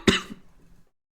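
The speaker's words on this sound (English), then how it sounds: "man, I've barely been coughing, and then right now I'm coughing." A single sharp, close cough, a quick burst that trails off into brief throat noise before silence.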